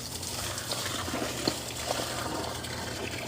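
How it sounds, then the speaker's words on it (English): Water running into a drum holding a spring garden plant, a soft, steady gush and trickle close by with a few small splashes, fairly quiet throughout. "So unless I fill this up with water, it doesn't get any water at all."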